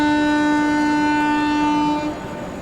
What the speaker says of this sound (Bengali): ছেড়ে দিল আমাদের ট্রেনটা চাঁদলোদিয়া রেলওয়ে স্টেশন থেকে।